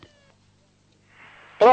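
A cat gives a single loud, close meow at the very end, preceded by a faint, breathy rustle and a brief earlier tonal squeak.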